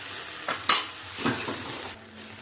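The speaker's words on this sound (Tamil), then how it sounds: "நல்லா ஃப்ரே ஆயிடுச்சு ஒரு திருப்பி திருப்பிட்டு" Mutton brain masala sizzling in a pan on low heat, with a couple of soft scraping turns of the spoon over a steady frying hiss.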